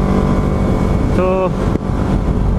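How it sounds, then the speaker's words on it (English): Steady broadband wind rush inside a Ruroc Atlas 2.0 carbon fiber motorcycle helmet while riding, constant and loud throughout, with a brief tonal whine partway through. "yeah, a bit less wind noise here"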